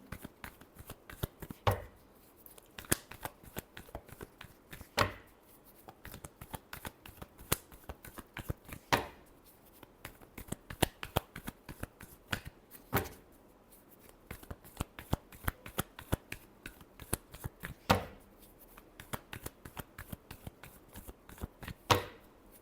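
Tarot cards are shuffled by hand in a close, quiet series of rapid riffling bursts and soft slaps, repeating irregularly and heard alone.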